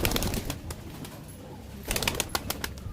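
Pigeons at a loft coo and shuffle close by, with soft calls and bursts of fluttering wing movement, without talk.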